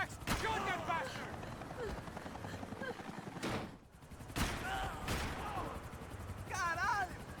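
Gunfire in the video game Max Payne 3, several sharp loud shots and bursts cutting through ongoing shouted speech and chaotic action sounds.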